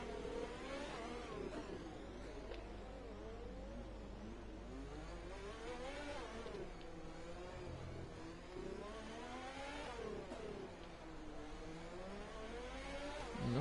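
F1 race car engine lapping Monaco in a racing video game, a loud continuous high-pitched whine rising and falling through repeated upshifts and downshifts, with no voices over it.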